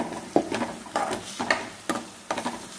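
Onions and ginger with turmeric fry in a pan, a soft sizzle broken by about half a dozen rhythmic stirring scrapes, close and quiet, with no talk.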